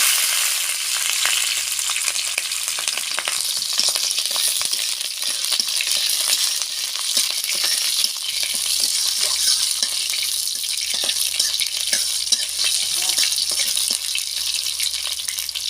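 Dried red and green chillies fry in a pan for a bottle gourd dish, giving a steady, close crackling sizzle that runs throughout with brief scraping stirs and no voices.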